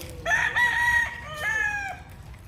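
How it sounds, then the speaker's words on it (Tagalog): A rooster crows in two long, wavering calls while chickens cluck softly underneath, close and fairly loud, outdoors beside a garden planted with eggplant. "Ayan, may mga manok dito."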